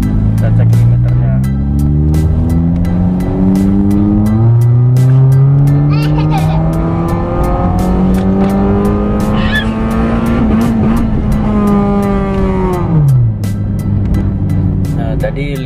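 A Honda Jazz GE8 RS automatic in S mode and first gear revs hard, its loud close engine note climbing and holding against the limiter near 5000 RPM before dropping sharply.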